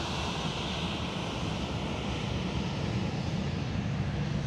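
A Qantas Airbus A330 taxiing at Sydney Airport gives off a steady, moderately loud broadband engine hiss and low rumble, continuous and unbroken, with no talking.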